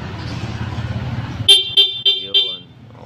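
Four sharp, loud honks from a Yamaha Sniper 150 MXi motorcycle horn in quick succession follow a low rumbling engine, each blast short and bright with a brief pause between.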